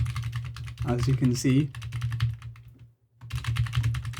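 Rapid clicking keystrokes on a laptop computer keyboard shared between Windows and Linux PCs through a USB switch, close and crisp, pausing briefly near the end before resuming, with someone talking over the typing.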